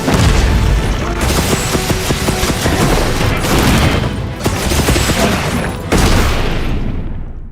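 Wyrmstake blasts fired from a lance in Monster Hunter Wilds: a series of loud, heavy explosive bursts, about four big booms spread across the stretch, each with a rumbling tail over continuous game noise.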